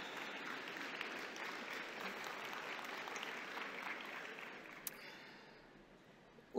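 Audience applause fills a forum hall, steady clapping from many hands that fades slowly before stopping.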